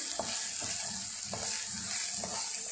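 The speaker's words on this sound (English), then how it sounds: "So I'm going to fry for a bit." Carrots and capsicum fry in a pan for red pasta, giving a steady close sizzle broken by repeated scraping stirs at an even rhythm; no voices.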